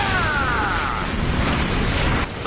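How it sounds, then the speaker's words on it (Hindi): A loud, sustained rumbling anime explosion blast from the Gojo versus Jogo fight in Jujutsu Kaisen fills the whole stretch, with a descending whistle-like streak early on and dense crackling noise throughout. "ये आवाज और धमाके से दोहरा हमला करते हैं।"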